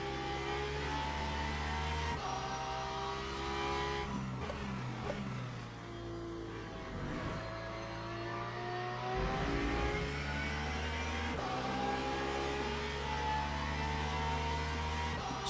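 Porsche race car engines in the video game Le Mans Ultimate at Interlagos, a sustained engine drone rising and falling through gear changes, with several cars running close together.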